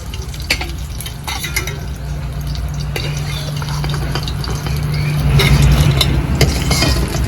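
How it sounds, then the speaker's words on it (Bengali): Desi tangra fish dropped into hot oil sizzle in a pan. A steady low hiss grows louder toward the end, with a few light clinks of utensils and no talking. "তেল গরম হয়ে গেছে এবার তেলে মাছগুলো ছেড়ে দিচ্ছি"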